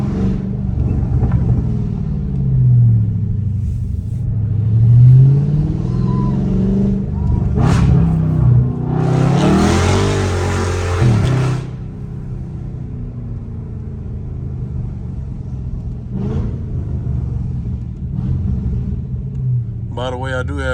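Deep, loud exhaust rumble from a Dodge Charger Scat Pack with a loud exhaust, driven through a neighborhood with traction control off, swelling into revs and then settling back to a steady drone while someone talks over it.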